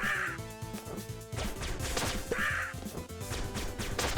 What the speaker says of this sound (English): Bomb dropping birds are no good for me.